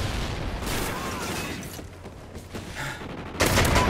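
Rapid bursts of gunfire from the Call of Duty: Ghosts video game, dense and continuous, with a louder volley near the end.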